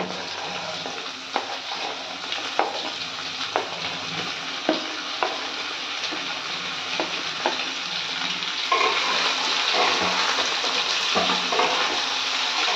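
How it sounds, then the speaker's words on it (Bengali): Potato, capsicum, tomato and beans fry alongside paneer in a pan for vegetable rice, a dense, continuous sizzle with light stirring taps that swells louder toward the end. "এবার আমি বাকি সবজিগুলো দিয়ে দেব। যেখানে আলু, ক্যাপসিকাম, টমেটো, বিনস আমি সব একসাথে দিয়ে দেব।"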